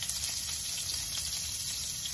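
Onions sizzle steadily in hot grease, a constant crackling hiss close to the pan, with no one speaking.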